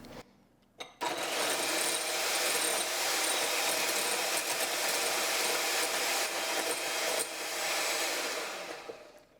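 An electric mixer whips egg whites or aquafaba in a bowl, a loud, steady, close whir that starts abruptly after a brief quiet moment and runs continuously with slight wavering, alone without talk, then fades at the end.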